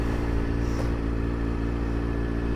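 A motorcycle is ridden at a steady pace, its engine giving a continuous, close, rumbling drone with a faint rattle and no voices over it.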